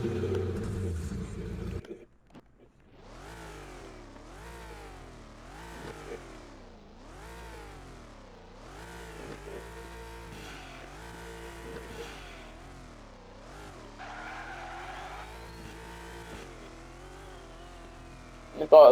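Race cars in a Roblox driving game rev up and shift through gears again and again, with a whining engine note rising and falling steadily. The loud engine sound is heard alone, ending with a sharp burst.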